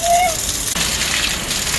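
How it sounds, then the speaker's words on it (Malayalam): Athirappilly waterfall in steady broadband rushing roar, continuous and loud, with a brief whistle-like tone near the start. "ഇത് അതിരപ്പള്ളി വെള്ളച്ചാട്ടം"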